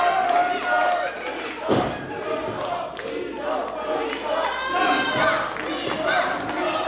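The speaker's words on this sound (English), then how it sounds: "And you can hear the crowd chanting Logan loser" A wrestling arena crowd chants Logan loser in a rhythmic, sustained group shout during a Jay Lethal versus Logan Easton Laroux match, mixed with a thud from the ring and a commentator talking over it.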